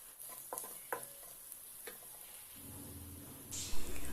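Onion, curry leaves and halved dried red chilies fry in a pan: a few sharp stirring clicks, then the sizzle swells loudly near the end, with no talking.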